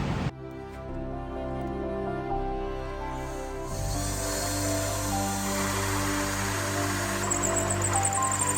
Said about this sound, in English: So I'm going to try to drill out a piece